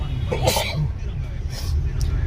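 One sharp sneeze bursts out near the start, followed by a fainter second burst, over steady low road or vehicle rumble with faint voices in the background.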